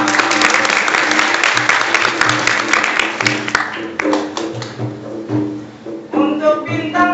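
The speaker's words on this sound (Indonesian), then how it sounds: "Tepuk tangan sama-sama." Audience applause at a Banjar madihin comedy performance in South Kalimantan, dense clapping that thins and fades partway through before a short renewed burst, with some voices near the end.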